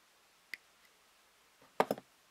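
Hobby cutters snip a part off the sprue of a 1/500 Fine Molds plastic kit of the missile escort ship Yukikaze. There is a single soft click, then a quick pair of sharp, close snaps in an otherwise quiet room.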